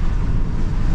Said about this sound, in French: le vent, il est en train de se lever d'une force, mais c'est impressionnant